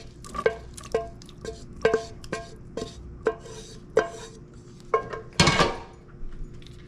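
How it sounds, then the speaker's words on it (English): A wire whisk beats a bacon, potato, egg and cheese casserole mixture in a bowl, with a steady run of quick, clinking strokes against the bowl's side and one louder scrape near the end. "Give her a whisk."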